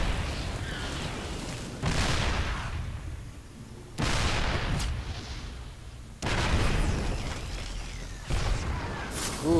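Siege tank cannon fire in a StarCraft II match, four heavy booming blasts at regular intervals, each decaying into a rumbling tail.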